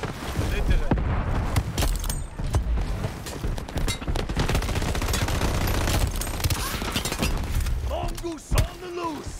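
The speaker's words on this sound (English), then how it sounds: "Throwing grenades!" Sustained gunfire and grenade blasts from a Shatterline multiplayer match, rapid overlapping shots and heavy thumps forming a dense, loud firefight, with a voice briefly calling out near the end.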